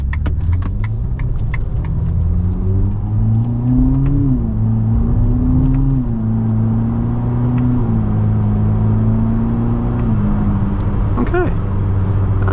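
A Ferrari SF90 accelerates hard with quick gear shifts, a loud close engine note climbing and dropping in steps, with a voice speaking briefly over it.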